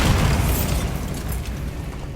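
A Bombarda spell explosion in the video game Hogwarts Legacy: a loud, broad, rumbling blast that spreads out and slowly decays over a couple of seconds, with no talk.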